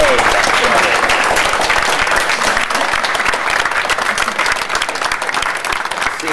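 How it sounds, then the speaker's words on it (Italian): A large audience applauds warmly at an indoor gathering, a loud, continuous wash of dense clapping that holds steady from start to finish. "io inviterei calorosamente un applauso"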